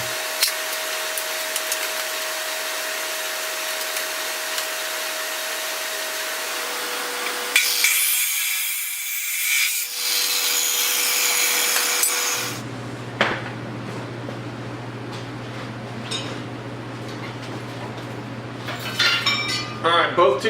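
Metal tubing is cut for a mini stunter bike build, with one tube fish-mouthed to fit the steering stem: a harsh, rasping cutting tool grinds on and off, with pauses, workshop clatter and a shift in tone partway through.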